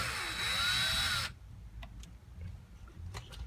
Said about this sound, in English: I like to just run up one screw just to hold the steering wheel and the horn on